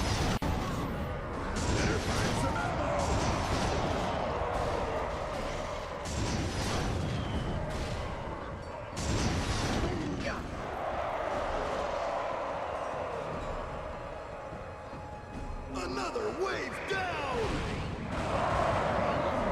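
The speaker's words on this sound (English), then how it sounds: "this is a rocket launcher, and it doesn't one-shot them" Rocket launcher blasts in Ratchet and Clank Future, a sci-fi action game, boom repeatedly alongside heavy weapon fire and mechanical clatter, loud and layered for a long stretch, with a voice talking at times.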